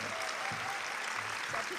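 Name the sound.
audience applause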